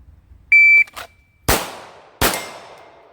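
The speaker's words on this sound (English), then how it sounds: "there's my timer" A shot timer at a handgun range gives one short, sharp electronic beep, followed by two loud, close handgun shots with ringing decay.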